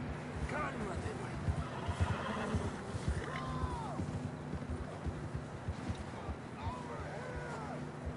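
Horses in the video game Red Dead Redemption 2 whinny and neigh several times over hoofbeats and background game noise, with voices mixed in underneath.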